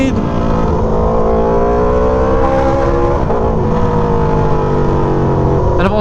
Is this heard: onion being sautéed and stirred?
no